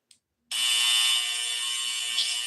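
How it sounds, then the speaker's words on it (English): A game show buzzer on a family quiz show sounds once: one loud, harsh, steady electronic tone that lasts about two seconds after a short pause. "And the buzzer."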